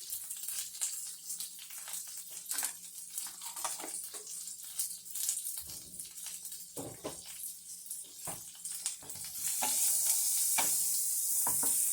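Butter melting and sizzling in a pan amid scattered clinks and scrapes of utensils, then a louder, steady sizzling hiss rising in the final seconds, close by and with no speech.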